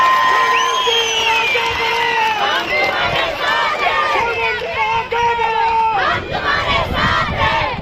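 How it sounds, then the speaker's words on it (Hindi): Large crowd at a Kishtwar public rally cheering, whooping and shouting loudly and continuously throughout, a dense roar of many voices with clapping mixed in. "जोर से ताली बजाइए"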